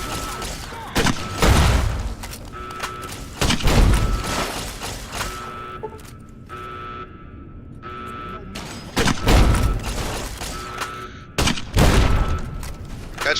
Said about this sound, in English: Catch my grenades, bitch.